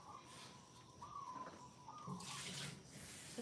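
Purple-tinted paint water is swapped out at a sink, a tap running in a quiet, continuous trickle that grows louder and splashier toward the end, with no talking.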